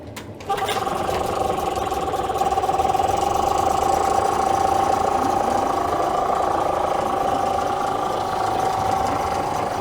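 A Chinese-made Tohatsu-style 5 hp outboard motor starts with a sharp catch and then idles steadily, a loud close mechanical drone with a persistent whine, running without voices.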